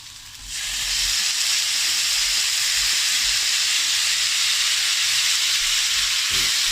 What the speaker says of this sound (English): Now I'm going to add in the tomato.